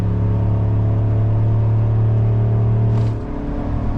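A GMC Sierra 6.2L V8 pickup at wide open throttle, towing a heavy trailer up a steep grade, gives a steady loud low engine drone that shifts pitch near the end.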